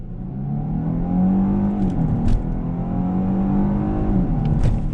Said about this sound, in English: Let me go ahead and do a little bit of acceleration test.